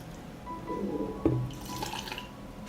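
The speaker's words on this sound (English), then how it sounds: "I pour the dressing into a jar." Boiled lemon-juice dressing is poured from a pan into a glass jar, a soft liquid trickle and splash with a light clink of the container partway through, close and quiet.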